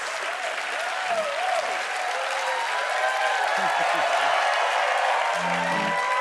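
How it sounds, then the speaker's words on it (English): Sustained studio audience applause during a late-night comedy show taping, a steady wash of clapping with a few brief voices and cheers mixed in. "So keep with the applause"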